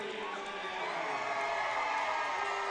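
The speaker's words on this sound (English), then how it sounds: "Got a great crowd here tonight, too. It's loud." A loud crowd fills a gym at the Comanche County Tournament basketball finals, a continuous dense roar of cheering and shouting voices throughout, close and steady with no breaks.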